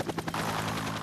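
A helicopter arrives in an open rural area of Yangju, Gyeonggi Province, its rotor chopping in a fast pulsing beat that swells into a loud, steady roar.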